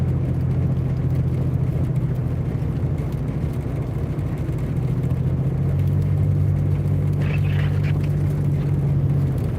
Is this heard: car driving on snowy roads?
yes